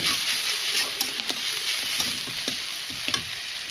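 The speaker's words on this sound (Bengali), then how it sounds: "পেঁয়াজটা আমি দিয়ে দিলাম, হালকা নেড়ে চেড়ে একটু ভেজে নেবো" Onion and spices fry hard in hot oil in a wok, a dense bright sizzle running throughout with occasional soft stirring scrapes and taps, close up.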